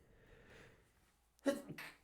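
One sneeze nearby, a sudden burst after a quiet moment, followed by a short breathy aftersound.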